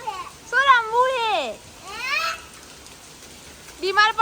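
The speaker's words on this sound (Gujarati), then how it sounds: "તો ગાઈસ બહુ બધો વરસાદ આવી ગયો છે" Heavy rain pours down steadily as a soft hiss behind excited children's voices chattering and calling out close by.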